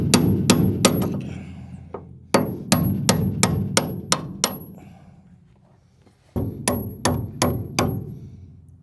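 Sharp metal hammer blows ring out in quick bursts of about four to six strikes with short pauses between, driving a bushing out, loud and close.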